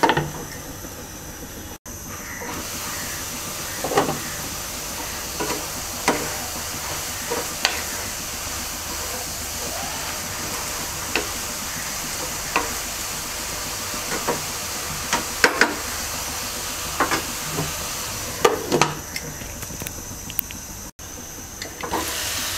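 Pieces of ash gourd with turmeric fry gently in a pan at medium heat, giving a continuous soft hiss broken by occasional sharp clicks and pops of stirring.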